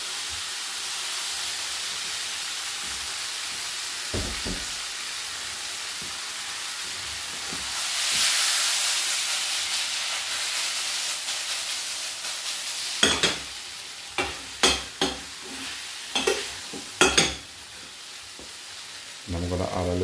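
Noodles stir-frying in a hot pan, a continuous loud sizzle and hiss that swells when they go in, followed by a run of sharp spatula scrapes and taps near the end.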